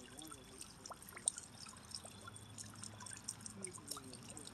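Spring water trickles into a pond with a soft, faint, continuous flow and small splashy ripples, under quiet intermittent talk.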